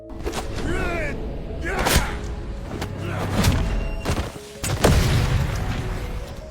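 Several deep booms and thuds go off at irregular intervals, some with crackling tails, like explosions with a voice speaking between them.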